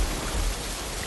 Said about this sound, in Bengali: তখনই খুব জোরে বৃষ্টি নামতে শুরু করে।